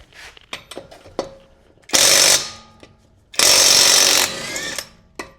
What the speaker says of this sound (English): Now to get these lug nuts off, I'm going to be going with the Bauer 20 volt 3/8 drive from Harbor Freight